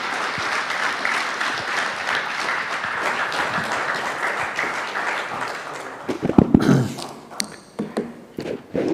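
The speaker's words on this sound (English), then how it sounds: "may we have a round of applause" Summit audience applauding steadily for about six seconds, a dense even wash of clapping that then breaks into scattered louder claps and shuffling as it winds down.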